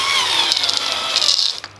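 A power drill drives a half-inch screw into dry wood, a loud steady high whine that wavers slightly and then cuts off abruptly.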